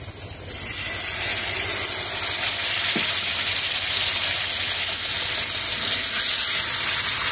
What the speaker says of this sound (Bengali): মশলাতে একটু সামান্য পরিমাণে পানি দিয়ে দিব, যাতে কড়াইয়ে না লেগে যায়।